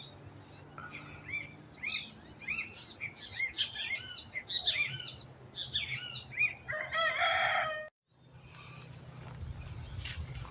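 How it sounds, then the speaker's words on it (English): Chickens and chicks in a small backyard chicken run in Deep South Texas, a rooster crowing among busy chirps and clucks, fairly close and continuous, with a short pause before the birds carry on. "The little chicks have been moved from the brooder to this small chicken coop we have back here in the chicken run."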